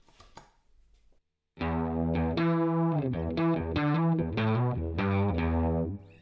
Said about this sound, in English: this is a synth board that's playable